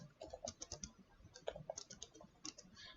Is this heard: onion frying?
no